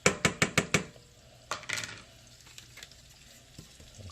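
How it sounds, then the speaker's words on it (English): A spoon knocks several quick times against a pot, then scrapes and stirs collard greens with seasoning and brown sugar, followed by a soft clatter and quiet scraping. "And stir that all around."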